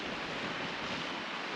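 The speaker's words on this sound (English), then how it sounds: "Wind is relentless." Strong wind buffeting the microphone on a seafront promenade as the tide goes out past the rocks, a steady broadband roar with no pauses, loud and close throughout.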